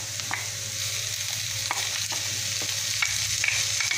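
Bacon frying with onions in a pan, a steady sizzle with intermittent scraping stirs of a utensil, close and continuous with no talking.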